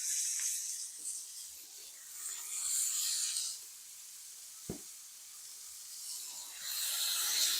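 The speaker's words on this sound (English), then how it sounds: "I got some half-pound 80-20 hamburgers. I'm gonna put them right in the bacon grease." Half-pound 80-20 store-bought hamburger patties sizzle in bacon grease, a steady soft hiss that swells and fades, with one brief knock partway through and no talking.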